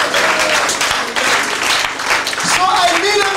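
A church camp congregation applauding, dense sustained clapping from a large crowd filling the space loudly and evenly throughout.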